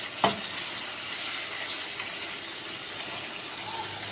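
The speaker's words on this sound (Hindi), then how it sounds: "अब हम इसे फ्राई कर रहे हैं मटन को।" Mutton frying in hot oil gives a constant soft sizzle and crackle close by, with one brief clatter near the start.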